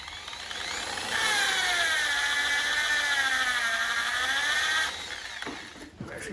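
JConcepts Sprinter R/C tire spun by power and sanded with coarse sandpaper, a steady whining grind that rises and wavers for about four seconds, then drops away to quiet handling noises.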